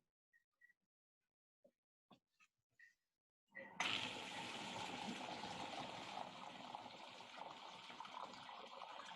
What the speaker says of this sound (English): So I'm going to turn on the water.